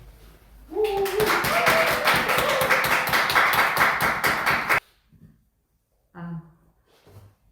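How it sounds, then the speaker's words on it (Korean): A church congregation claps in welcome as a pastor comes forward at a Sunday service, a loud burst of rhythmic clapping lasting about four seconds before stopping abruptly, followed by quiet and brief speech. "나오실 때 우리 큰 박수로 환영하도록 하겠습니다"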